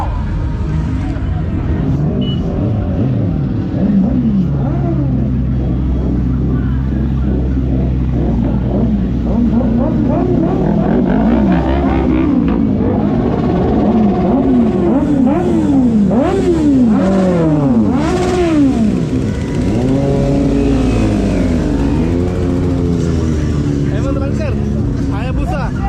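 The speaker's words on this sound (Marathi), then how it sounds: "Flat track race. We are here to begin with our very first heat of the quarterfinals." Motorcycles in a flat track race rev their engines, with loud rising and falling engine whines layered under constant voices and crowd chatter.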